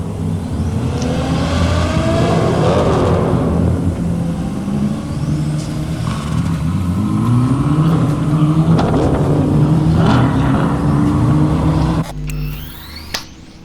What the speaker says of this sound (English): Start your engines, folks.